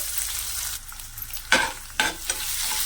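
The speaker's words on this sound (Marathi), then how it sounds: "तेलामध्ये आहे ना मोहरी चांगली नाचायला लागली ना की खमंग अशी फोडणी बसते" Steady hiss of chopped green chillies frying in hot oil with mustard seeds, with a few sharper bursts of sizzling and stirring scrapes toward the end; no talking.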